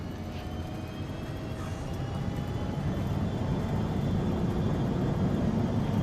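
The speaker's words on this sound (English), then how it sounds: "And reversers are deployed." An Embraer ERJ jet in a flight simulator game rolling down the runway with thrust reversers deployed, a loud steady engine roar that swells slightly over several seconds, with no talking.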